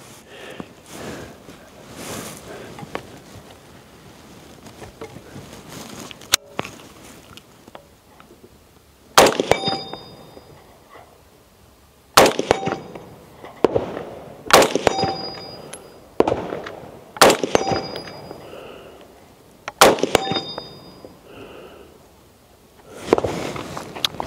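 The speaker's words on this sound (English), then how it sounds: "So we're gonna just take a couple of shots." Rifle fired from a tripod while adjusting the zero, about six loud sharp shots spaced a few seconds apart, each followed by a short echoing tail, with quieter handling and rustling noises between them.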